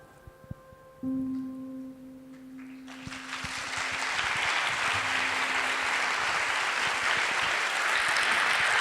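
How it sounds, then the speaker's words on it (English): After a sustained tone and a few scattered claps, applause from a forum's closing plenary audience swells into loud, continuous clapping that fills the hall and keeps building. "applaud yourselves."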